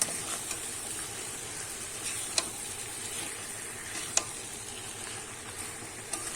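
Bhetki fish head and potatoes frying with spices in a pan give a steady close sizzle, with a few sharp ticks of the spatula against the pan and no voices.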